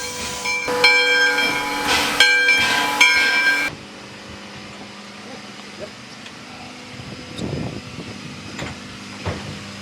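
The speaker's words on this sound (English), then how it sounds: "I hear the train whistle" A loud steam whistle from a 1909-built steam locomotive blasts in several bursts over hissing steam, then cuts off, leaving rumbling rail noise and faint voices.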